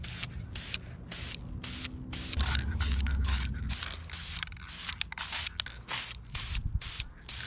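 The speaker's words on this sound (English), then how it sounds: "This is meant for bare metal, so hopefully it'll look cool" Spray can applying bare-metal paint to a car radiator, a close run of short hissing bursts with brief gaps, repeated steadily throughout with a low rumble in the middle.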